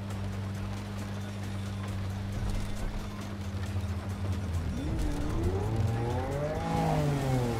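In the video game Cyberpunk 2077, a car engine idles with a low rumble, then revs up repeatedly, its pitch climbing and falling loudly near the end.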